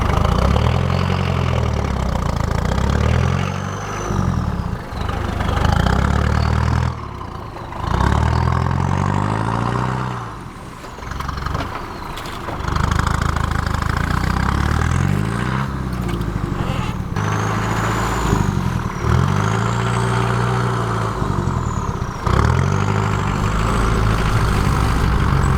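A Land Rover diesel engine idles in deep snow, a close, steady low rumble that runs throughout with slight dips and faint whistling tones above it.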